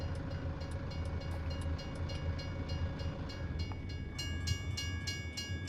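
Train rolling along in Farming Simulator 19, a steady rumbling run with faint clicking and a high ringing tone joining near the end.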